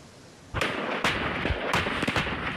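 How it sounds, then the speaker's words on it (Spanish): A rapid chain of loud, sharp blasts and booms in illegal mining tunnels, several in quick succession over a rumbling background. "La cadena de explosiones que ustedes ven y escuchan se registraron en los túneles de mineros ilegales"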